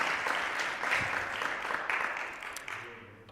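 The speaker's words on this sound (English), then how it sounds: "I do want to give an extra round of applause to Cora" Applause from an audience at a student presentation showcase, a dense clapping crowd that holds steady for a few seconds and then thins and fades.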